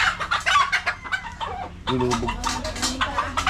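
Laying hens cluck repeatedly at close range, a busy overlapping chorus of short calls from a farm flock, with a brief lull before the clucking resumes more densely.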